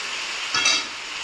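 Chicken meat and onions sizzle in a frying pan while being stirred, a close, steady hiss that swells briefly in the middle.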